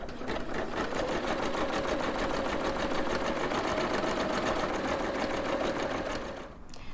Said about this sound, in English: now I can keep embroidering my second thread color